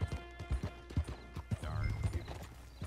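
A horse's hooves clip-clop at an even walking rhythm on a dirt street in the video game Red Dead Online, with a brief whinny partway through.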